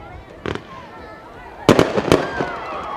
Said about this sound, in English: So fireworks a little early.